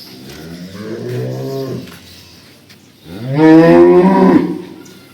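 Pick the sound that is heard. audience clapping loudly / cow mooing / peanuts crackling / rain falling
cow mooing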